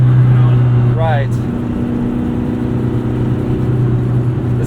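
A 2005 VW Jetta GLI with the 1.8-litre turbo engine droning at steady load from inside the cabin, with a brief rising chirp early on and voices talking over the continuous hum.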